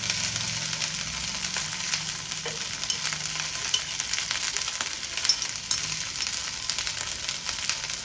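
Okra fries in a pan with curry leaves and salt, making a continuous gentle sizzle with faint stirring scrapes. It sounds close and steady, with no speech.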